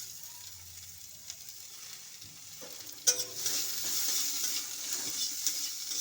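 Chopped onion fries in a pan as green chili and garlic are tossed in, a quiet background sizzle that jumps into a louder, brighter crackle partway through and stays stronger after the addition.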